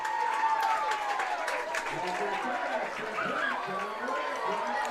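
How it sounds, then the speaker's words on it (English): A small-town high school football crowd, the Aces, cheers and claps after a caught pass, a lively mix of shouts and applause with voices chattering throughout. "That woke up the Aces crowd real quick."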